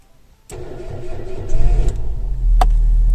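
An MK1 Toyota Yaris engine with a fully charged battery but a faulty starter motor cranks laboriously and struggles before catching into a rough, loud idle, with a sharp click partway through.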